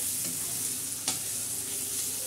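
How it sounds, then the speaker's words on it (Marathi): Black masala, ground on a stone slab, fries in hot oil for chicken soup with a steady close sizzle. A single sharp scrape of stirring cuts through the sizzle partway through. "खरपूस असा चांगल्या तेलामध्ये भाजला गेलेला आहे"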